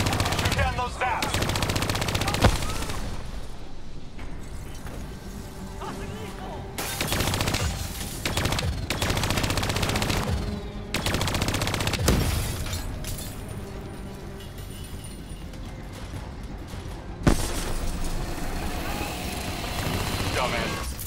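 Rapid automatic gunfire and bursts in the Call of Duty: Black Ops 3 video game campaign, loud and sustained across the clip with explosions and game noise mixed in and brief pauses between volleys.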